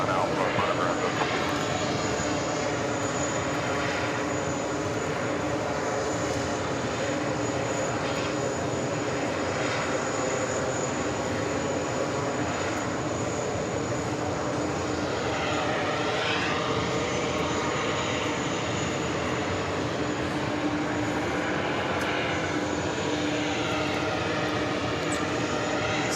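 Jet airliners taxiing at JFK airport in New York, a continuous loud engine roar and whine that swells and fades slightly over time, with radio chatter and talk over it.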